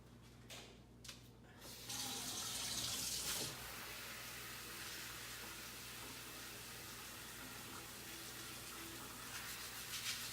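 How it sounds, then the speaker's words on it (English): Tap water running into a sink while a glitter transfer is washed off, a steady faint stream starting after a few seconds of handling noise, no talking. "I'm gonna go ahead and wash this transfer off"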